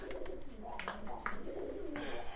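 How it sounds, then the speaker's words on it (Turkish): Pigeons in a loft give soft, repeated coos in short overlapping phrases, close and clear over a faint background hum. "Şu anda 6 takım güvercinim var burada."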